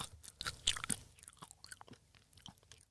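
A crunchy vegan cookie being chewed close up, with quiet irregular crunches and bites over about three seconds.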